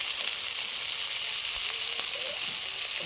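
Onions and spices, just dosed with turmeric, sizzle steadily in hot oil at an outdoor riverside picnic in the Sundarbans, a dense, even hiss close by with faint scraping underneath.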